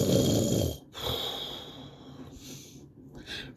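A narrator imitates snoring by voice, with a long rasping inhale, then softer breathy snorts and a faint whistling exhale, close and alone.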